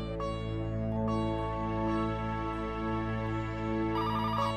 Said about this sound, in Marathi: बघ जरा कुणाचा फोन आहे.